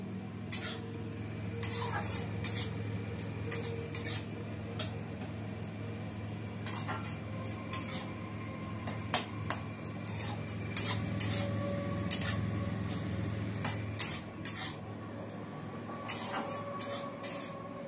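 Fried onion being mixed into mashed potato in a bowl, giving repeated scraping and clinking of a utensil against the bowl in uneven bursts over steady background hum, with no talk.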